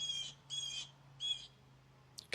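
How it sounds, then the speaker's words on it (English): Outdoor birds give three squawking, harsh calls in an even rhythm, moderately close, over a low steady hum from a lawnmower in the background, captured through a USB gaming microphone. "You can still hear birds"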